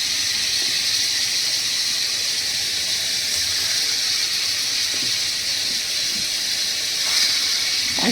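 Jackfruit seed koftas dropped one by one into hot oil, giving a steady loud frying hiss and sizzle throughout, with a few faint thuds and splashes as pieces go in.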